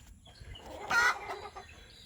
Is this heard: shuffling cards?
no